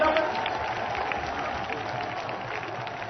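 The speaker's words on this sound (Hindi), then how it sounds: "एक बार तालियों की गड़गड़ाहट से जोरदार अभिनंदन करें, स्वागत करें।" Crowd at a public meeting in Sikar, Rajasthan claps in a sustained burst of applause, loud and dense at first and then slowly fading.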